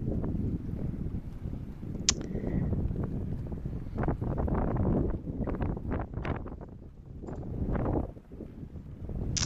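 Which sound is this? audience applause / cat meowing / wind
wind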